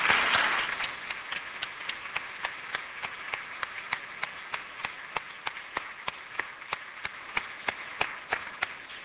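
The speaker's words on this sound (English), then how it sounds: "Why don't we give Sam a big round of applause as well for chairing the whole thing." Sparse, rhythmic clapping after a university-style debate on the resurrection, a few loud single claps repeating at a steady pace over a faint burst of applause at the start.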